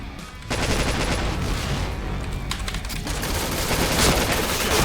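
Rapid automatic gunfire from the Point Blank shooter game rattles almost nonstop, loud and dense, after a brief quieter opening moment.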